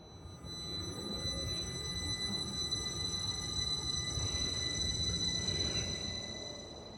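A train runs along a railway line near Settle Junction, a continuous rumbling roll of wheels on track that swells and then fades over several seconds, with faint high metallic tones above it and no talking.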